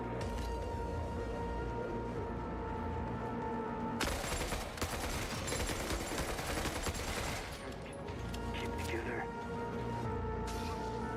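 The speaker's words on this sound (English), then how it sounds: "I think this is literally just the RPK sound." An RPK machine gun in the video game Forever Winter fires a long, dense sustained burst over steady game noise, with a shorter burst near the end and a voice talking throughout.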